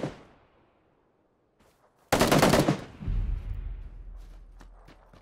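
Gunfire from a battle royale video game: a sudden loud burst of rapid automatic shots after a near-silent pause, then a rumbling tail fading away, with no talking over it.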